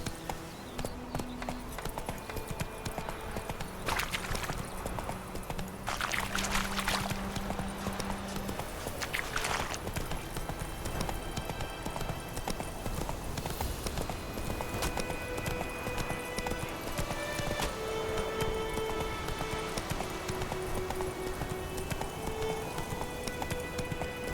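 Roach the horse gallops in The Witcher 3, with rapid steady hoofbeats drumming throughout amid rain-like ambient noise and game sounds.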